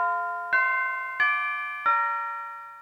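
A clock bell strikes three times, each stroke deep and hollow, ringing clearly and fading slowly between strikes, with no voices, as a radio drama sound effect.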